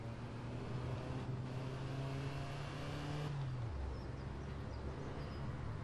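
A car drives in the video game APB Reloaded, its engine a steady drone that drops in pitch partway through as it slows, heard alone with no voices.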